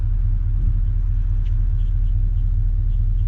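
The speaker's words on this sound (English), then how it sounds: "We're going to go out one click for reverse. and hear the vehicle engage into gear." A Chevy or GMC vehicle shifted into reverse without the key, heard as a steady deep engine rumble close by with no distinct clunk, continuous throughout.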